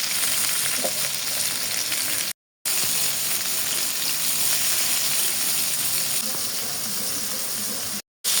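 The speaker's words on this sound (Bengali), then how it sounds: "আর করলা কিন্তু আমি একদম চিপড়াই চিপড়াই ভাজি করি" Bitter gourd (karela) slices frying crisply in a pan, a loud, continuous crackling sizzle with stirring, broken by two brief silent cuts.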